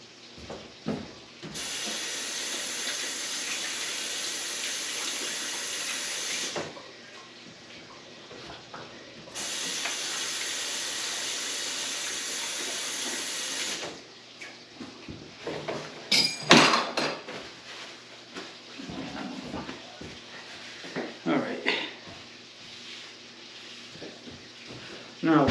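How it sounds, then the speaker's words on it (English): A kitchen tap runs in two bursts of steady hissing water while hands are washed, followed by clinking and a voice speaking. "I'm just going to wash my hands quick."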